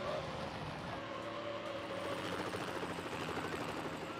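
Helicopter in the racing video game Need for Speed: Hot Pursuit 2, a steady whirring drone blended with car engine noise, constant and moderately loud throughout.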